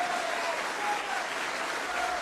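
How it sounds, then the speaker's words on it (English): Dense, steady applause from an audience welcoming a speaker on stage, a continuous wash of clapping throughout without a break. "Let us bring him on with a round of applause."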